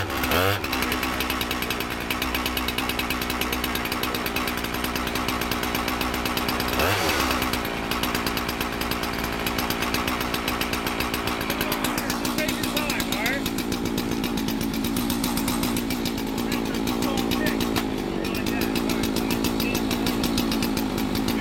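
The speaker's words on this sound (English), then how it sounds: "Control the saw, only the saw control you" A chainsaw runs loud and close during firefighter roof-operations training, holding a high buzzing drone with a few sharp throttle blips, while an instructor talks over it.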